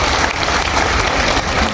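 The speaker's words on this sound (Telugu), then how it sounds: "వారికి ఒకసారి గట్టిగా చప్పట్లు కొట్టాలని చెప్పి నేను కోరుతాను" A crowd at a BRS party workers' meeting in Kukatpally breaks into loud, sustained applause. Many hands clap densely and steadily without pause.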